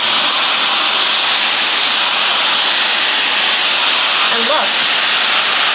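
Dyson Supersonic hair dryer blowing steadily and loudly for the whole stretch, a dense airy hiss, while a voice speaks briefly near the end.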